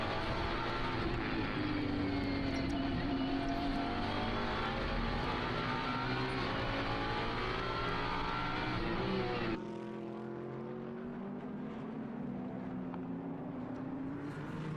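A Ferrari race car competing in a Japan Cup race at Okayama roars loudly and continuously, its engine pitch climbing and falling through throttle and braking, then a sudden drop to a quieter, more distant engine note near the end.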